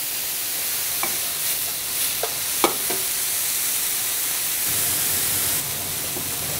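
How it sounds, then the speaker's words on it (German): Bacon and red onion rings fry in a pan, producing a constant close sizzle with a few short clicks and scrapes from stirring. "Wenn der Speck leicht angeröstet ist, geben wir die roten Zwiebelringe dazu."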